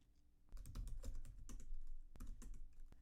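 A computer keyboard clatters close by in a quick burst of keystrokes, a short pause, then a few more taps ending on a firmer key press, quiet and alone.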